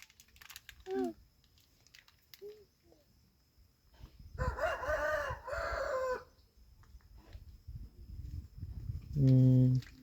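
Chickens cluck and a rooster crows loudly near the end, with scattered hen calls across a yard, a dog barking, and people talking in between.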